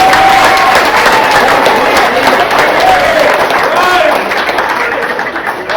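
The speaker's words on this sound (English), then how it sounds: "please give a big round of applause for your tournament chairman, Bryce Binion." A golf tournament crowd applauds its chairman with loud, sustained clapping and some cheering, with voices mixed in and the clapping easing off toward the end.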